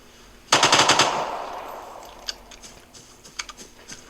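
Gunfire in the video game Vigor: a rapid burst of about six close, loud automatic shots, followed by several fainter scattered single shots further off.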